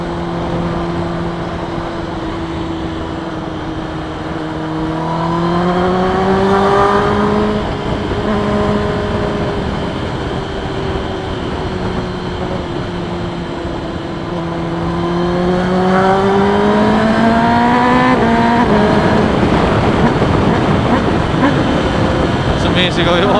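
A Kawasaki ZX10R sportbike on a dyno revs loudly and close, its engine note climbing and falling in two long sweeping pulls, with a brief blip in the final seconds.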